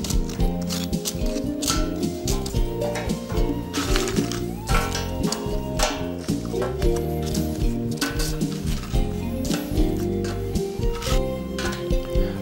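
Tortilla chips being spread densely over baking paper on a baking sheet for nachos: continuous close, crisp crackling and rustling with sharp irregular snaps, no voices.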